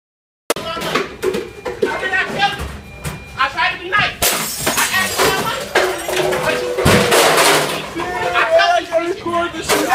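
Glass shattering across a floor inside a McDonald's restaurant, a burst of crashing and tinkling fragments repeated several times, loud and close, with people talking and laughing throughout.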